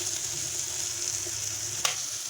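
Two eggs cracked into the middle of wilting greens fry in a pan, giving an even, close sizzle with a crackling hiss, a single sharp clink partway through, and no speech.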